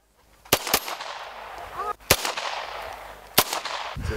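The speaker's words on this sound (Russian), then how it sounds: "По соседству стрельба из пистолета Марголина" Three sharp Margolin pistol shots at a range, spaced about a second or more apart, with faint voices and outdoor background between them.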